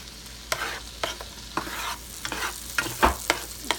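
Salmon frying in a pan for Tuscan salmon, with sharp stirring scrapes and clacks at an irregular rhythm over a steady low sizzle, close and fairly loud, with no talking.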